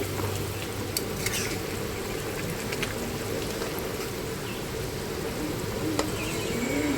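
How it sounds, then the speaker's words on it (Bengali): Fish curry broth bubbling and simmering steadily in a pan on a home stove, a continuous close, even bubbling texture with occasional faint utensil clinks and no talking. "ঝোলটা ফুটে উঠেছে"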